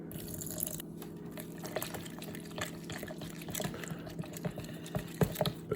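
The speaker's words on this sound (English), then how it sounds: "I'm gonna add a bit of water." Water being added to a sourdough starter to build a levain, quiet trickling and small splashes and drips into a container close up, with faint scattered clicks.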